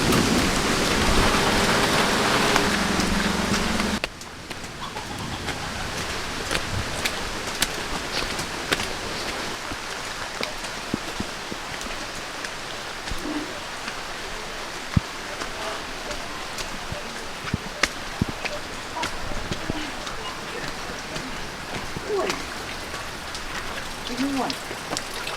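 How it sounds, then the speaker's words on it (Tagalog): Heavy rain pours down in a dense, steady hiss. The first few seconds are louder and fuller, then the downpour settles into a constant wash with scattered drops and splashes and a few faint voices beneath it. "di pa muna kami makalabas kasi ang lakas ng ulan"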